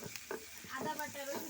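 Shing fish curry bubbling and sizzling in a pan, faint close pops and soft crackles in an irregular rhythm with a brief stir.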